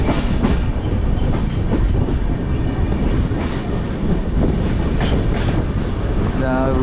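An Indian Railways train runs on the rails toward Howrah in Bengal, with a steady, loud rumble and rhythmic wheel clatter throughout and no talk.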